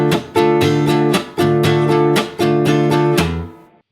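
A plectrum-strummed guitar plays a gypsy jazz-style syncopated bossa nova rhythm, sharp chord attacks in repeating groups, close and clear, ringing out at the end.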